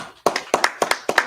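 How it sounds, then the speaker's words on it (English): Clapping at a Sabbath service, a few sharp, close claps in a steady paired rhythm rather than a large crowd's continuous applause. "Clap it up for him."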